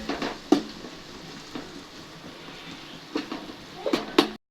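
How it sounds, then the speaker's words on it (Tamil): Onions sautéing in a pan for chicken biryani, giving a quiet, steady sizzle broken by a few sharp stirring clatters of a spoon against the pan. "பிரியாணிக்கு முக்கியமானது இந்த வெங்காயம் வதக்கிறது தான்"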